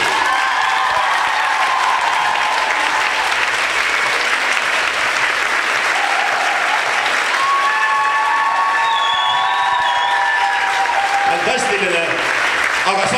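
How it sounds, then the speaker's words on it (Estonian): An audience at an awards-style stage show breaks into loud, sustained applause that fills the whole stretch, with cheering and a few voices rising through the clapping. "teeme talle aplausi!"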